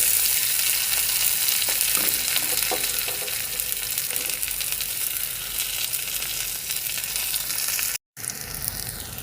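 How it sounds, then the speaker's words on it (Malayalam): Small onions and curry leaves fry in coconut oil with a dense, steady sizzle close up, broken by a few soft stirring scrapes and a brief dropout near the end. "ആവശ്യത്തിന് വെളിച്ചെണ്ണ ഒഴിച്ചു കൊടുക്കുന്നുണ്ട് ഇനി ഇതിലേക്ക് അരിഞ്ഞു വെച്ചിരിക്കുന്ന ചെറിയ ഉള്ളിയും ഒരു പത്ത് ചെറിയ ഉള്ളിയും കറിവേപ്പിലയുമാണ് അതിലേക്ക് നമുക്ക് ചേർത്ത് കൊടുക്കാം"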